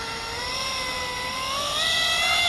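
A Freewing A-10 RC model jet on takeoff at a flying field, giving a steady, loud ducted-fan whine that rises in pitch as the throttle comes up, with no voices.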